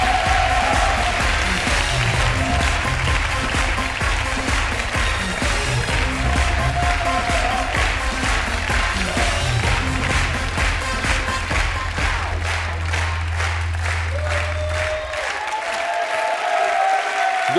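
A studio audience on a German quiz show applauds to welcome a Kim Jong-un impersonator. The clapping is dense, loud and sustained, with a low tone droning underneath that fades out near the end.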